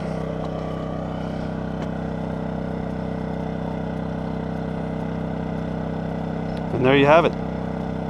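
A DuroMax XP2000is inverter generator runs at about half load, a steady engine drone with harmonic hum that holds even and continuous, close by, while a voice speaks briefly near the end.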